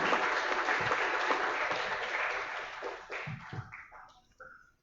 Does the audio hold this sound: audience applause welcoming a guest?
yes